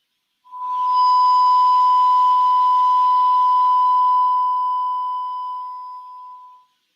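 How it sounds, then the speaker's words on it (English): Steady electronic test tone from a phone held close to the microphone, a single clear pitch with faint overtones, sounding continuously for about six seconds before cutting off. "this is the test tone"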